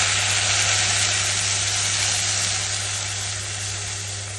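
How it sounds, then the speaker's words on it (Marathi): Rice roasted in ghee simmering in reduced milk for kheer, a steady close bubbling sizzle with faint stirring scrapes, continuous and fairly loud with no talk. "आता हे असे तांदूळ शिजेपर्यंत अशी ढवळत राहायची"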